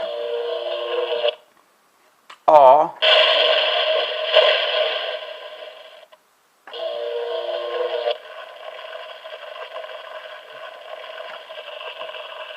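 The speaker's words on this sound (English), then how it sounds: "The torches light up and just make a little torch light up sound." An electronic Castle Grayskull toy's light-up torches give off buzzy, crackling tones in bursts, with a brief warbling sweep between them, steady and close.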